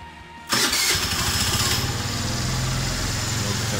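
A small scooter engine coughs to life about half a second in, then settles into a steady, buzzy idle that keeps running close by.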